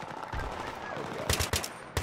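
Automatic gunfire in Battlefield 3 gameplay, rapid loud bursts of shots crackling over game ambience, with a second volley near the end.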